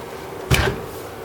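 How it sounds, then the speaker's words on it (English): Closet sliding doors in a hotel room at Disney's Boardwalk Inn Resort, heard as a single brief rolling thump about midway, close and moderately loud against a quiet room. "Sliding doors."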